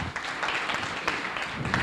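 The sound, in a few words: audience applause for Kavita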